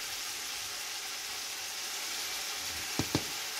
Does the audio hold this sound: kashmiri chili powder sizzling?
yes